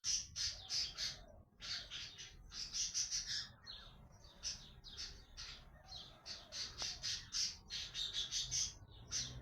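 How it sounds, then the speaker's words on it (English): House sparrows chirp and squawk in a dense, lively chorus close by, with rapid repeated calls continuing throughout and no other sounds. "Little house sparrows."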